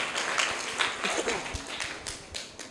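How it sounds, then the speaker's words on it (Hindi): Applause from a school audience for the fourth prize winner at a student competition: dense, fairly quiet clapping that fades slightly over a few seconds, with faint voices underneath. "तो जोरदार तालियां इनके लिए।"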